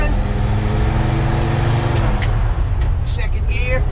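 An old vehicle engine, just refuelled after running out of gas, rumbles steadily and loudly up close, a low constant drone with a faint higher whine near the end.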